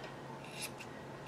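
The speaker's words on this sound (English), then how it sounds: "So I just take my scissors" Scissors snip at the faux fur of a craft gnome, three or four quick, faint crisp cuts close up against a quiet room.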